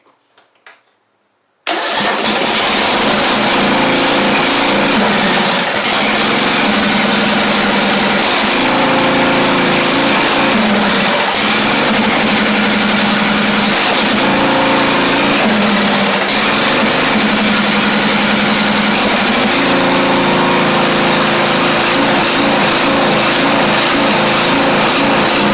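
A Craftsman YT4000 lawn tractor with a poor carburetor and a worn engine fires up after a moment of near silence, then runs loud and steady close by for the rest of the clip with no talking.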